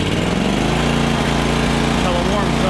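A Toro greens aerator engine runs on half choke just after starting in the rain, a steady, loud, close small-engine drone with a constant low hum throughout, while a voice talks over it.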